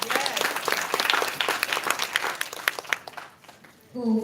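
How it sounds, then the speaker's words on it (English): An audience at a cancer conference claps for an honored speaker, the dense applause running strongly for about three seconds before fading, followed by a brief voice at the end. "give her a clap right now,"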